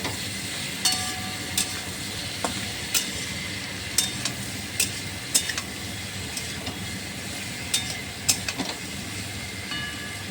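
Salt and turmeric are stirred into spices in a hot frying pan, giving a steady sizzle broken by sharp, scattered scraping clicks of a utensil against the pan over about ten seconds.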